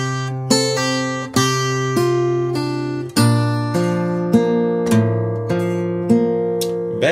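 Acoustic guitar picking two phrases of a song mostly on open strings, with about eight clear plucked notes ringing and overlapping at a steady, unhurried pace, close and alone.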